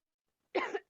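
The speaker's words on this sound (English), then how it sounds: "No wonder I have been coughing all day." A single harsh cough, close and fairly loud, bursting out after a moment of silence and trailing off quickly.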